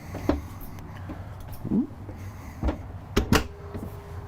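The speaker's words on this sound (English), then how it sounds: "these are all quiet closed drawers" Several soft thuds of soft-close drawers in a 2020 Renegade Verona LE 40 LRB motorhome sliding shut gently, one after another, over a low steady background hum.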